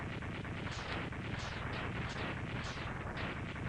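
Magnet Mine explosions from the Mega Man X2 game crackle in a dense, continuous roar, with repeated bursts blending into a loud, steady wall of blast noise.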